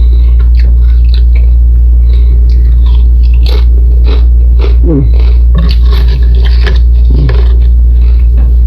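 Nacho cheddar barbecue chips crunch close to the mouth, with irregular crisp bites and chewing over a strong, steady low hum.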